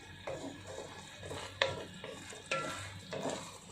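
Spring onion is stirred through tofu and minced pork with tomato in a pan, giving irregular close scraping and clinking strokes of a utensil against the pan over a soft sizzle, with a few sharper knocks.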